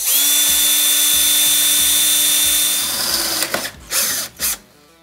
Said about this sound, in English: I have another hole marked back here, and I'm gonna drill and put a nut cert